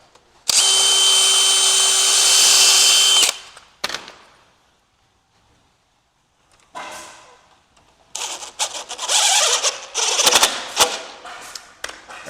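A power drill driving a screw into the frame of a big patio door during installation, whirring loud and steady for about three seconds, then a quiet pause before rougher, intermittent drilling and rattling bursts close by.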